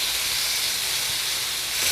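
A grilled chicken piece sizzling in a hot pan after being flipped, making a loud, steady, close hiss of frying for the whole short stretch.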